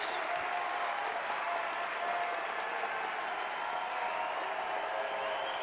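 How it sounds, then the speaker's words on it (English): A sellout crowd at a women's college basketball game cheers and applauds for the Jackrabbits: a steady, dense wash of clapping and crowd roar that holds for several seconds, heard from within the arena. "And the sellout crowd cheering now for the Jackrabbits."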